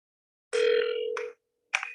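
A telephone line tone sounds alone while placing a cold call: a steady tone holds for under a second, breaks off, then returns briefly after a pause, clear and close with no talking.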